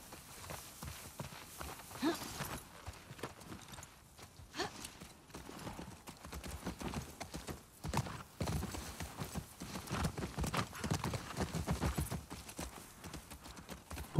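Horse hooves clip-clop steadily through a scene in The Last of Us Part II, with an occasional whinny, the rhythmic footfalls running throughout while someone talks over them.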